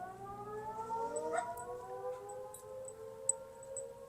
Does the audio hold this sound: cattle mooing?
no